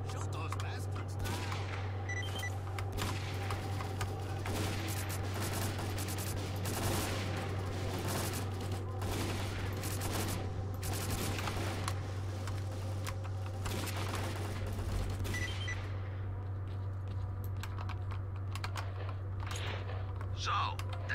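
Bursts of rapid gunfire crackle through a firefight in the shooter STALKER: Call of Pripyat, irregular volleys layered over a constant low drone and game background, with a voice briefly speaking.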